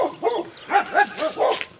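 Several dogs bark in a rapid, repeated series of loud, close barks and yips, with a brief whimpering tone between them, at a house during a property visit.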